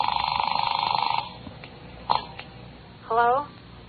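An old telephone bell rings in a 1950 radio drama, a loud rapid metallic ringing burst that stops abruptly, followed by brief clicks, a handset pickup rattle and a short vocal sound.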